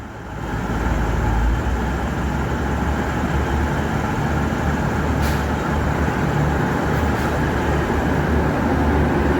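A train pulls away from a station platform on a trip to Bendigo, giving a steady, loud low rumble that holds throughout, with a couple of brief higher squeals partway through and no voices.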